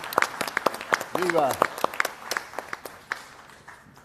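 Audience applause of scattered, crisp claps fills a panel session on addiction prevention and mental health, with a shouted cheer and voices over it.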